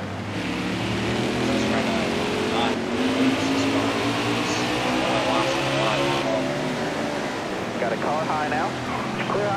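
Engine roar of NASCAR stock cars racing at Martinsville in a racing video game, a steady loud droning whine of several cars running together throughout, with a spotter's voice talking over it.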